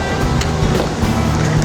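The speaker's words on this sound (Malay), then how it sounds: "Lepas dah isi air ni, kita on filter." A CF300 canister filter on a low-tech aquascape aquarium is switched on, sending a brief, steady rush of flowing water, close and fairly loud, with no talking.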